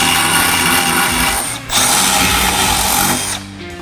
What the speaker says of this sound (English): we're gonna drill two holes to mount the block here